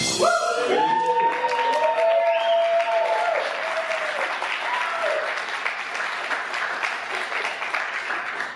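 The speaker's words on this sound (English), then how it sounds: "people are clapping for me" A live podcast audience in Portland claps in sustained, dense applause that is loud at first and slowly settles. A few held tonal sounds ring over the opening seconds.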